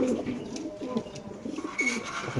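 Soft, low cooing from a large Afsan pigeon repeating close by, a throaty rolling call against quiet background noise.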